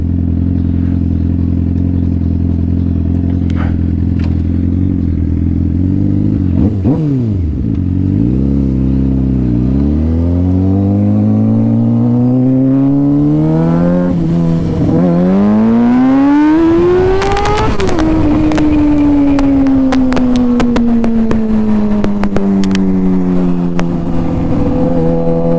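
A motorcycle rides and revs on a cold Michigan winter day, its engine loud and close throughout, with pitch dipping and rising through several throttle blips, wheelie pulls and gear changes, then settling into a steady falling drone.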